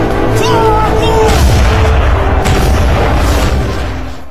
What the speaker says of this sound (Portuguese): Os adversários atiram com os canhões.